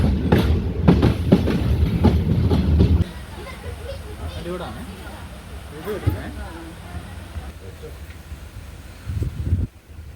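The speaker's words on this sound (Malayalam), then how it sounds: "ഞാൻ പറഞ്ഞ പോലെ ട്രെയിൻ 1ലേക്കാണ് വരുന്നത്." A diesel train arrives at a station platform on the Kollam to Aryankavu line, with a loud rumble and rolling rail clatter up front that then fades under crowd babble, and someone talks over it.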